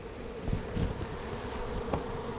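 Honeybees in a weak, low-population hive with a poorly performing queen hum in a steady, close drone, with a few louder passes of individual bees and no talking.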